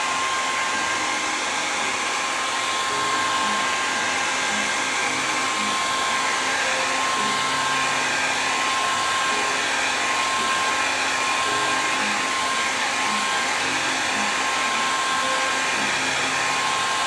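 A hair dryer blows a steady, loud, unbroken whine close by while drying a painting, running continuously without pause.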